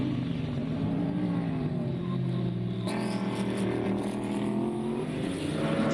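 BMW club race cars circle a track in a club race, their engines droning steadily with a sustained tonal whine that shifts in pitch as one car passes, continuous and fairly loud, with no voices.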